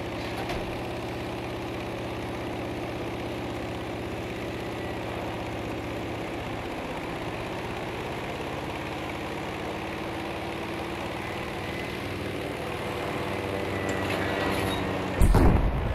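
A steady propeller airplane engine droning in Battlefield V, a loud, unbroken low hum with a constant pitch, ending in a short sharp burst of noise.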